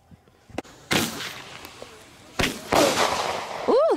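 A 25-shot consumer firework cake goes off at a Fourth of July backyard show, sending a few loud, sharp bangs with crackling tails at uneven intervals, while people talk and react nearby.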